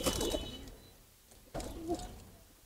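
Pigeons in a small loft give soft, quiet coos: one burst at the start and another after a pause of about a second, close by, with no speech.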